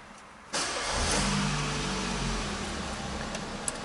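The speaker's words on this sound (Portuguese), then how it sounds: "Pronto, vamos ligar o carro." A car engine starts after a short quiet moment and settles into a steady idle with the gearbox in neutral, ahead of switching on an air conditioner that is not cooling; heard up close and alone.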